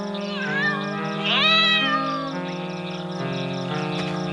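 A cat meows several times, drawn-out and plaintive, over a soft musical background.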